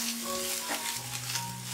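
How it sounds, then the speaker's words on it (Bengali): Neem leaves and brinjal frying over a high flame, with a steady, close sizzle and a faint stirring sound running throughout. "হাই ফ্লেমে 1 মিনিটের জন্য খুব ভালোভাবে এটা ফ্রাই"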